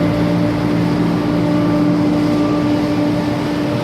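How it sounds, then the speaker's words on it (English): Inside a large HVAC cooling tower, the huge two-speed fan motor runs with a loud, steady low drone and hum, close and continuous, without speech. "We're inside our cooling tower. Man, look at that fan. Thing's huge. Low speed, high speed motor."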